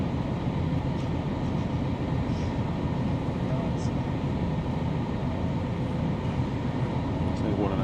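A train runs on the East Coast Main Line and gives a loud, continuous rumble with a rushing roar. Heard from near the tracks where a walking route crosses over the line, it stays steady for the whole stretch.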